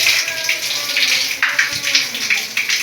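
Water rushes steadily out of a house water line being drained at a filter valve, a continuous hissing gush with slight surges throughout.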